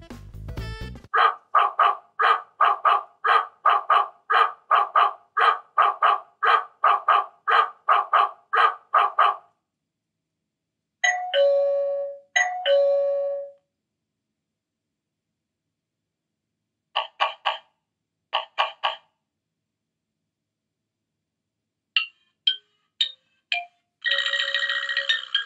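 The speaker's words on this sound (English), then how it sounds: "we'll find all the different ringtones here, and there are a few that are more applicable to a doorbell" Doorbell ringtones from an Aqara smart hub played back one after another: a long run of rapid repeated electronic tones, then pauses and shorter bursts of chimes and jingles with silence between them.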